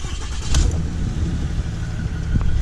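A Cummins diesel truck engine cranks and catches, a rough low rumble with a sharp burst as it fires, then settles into a loud, throbbing idle close by.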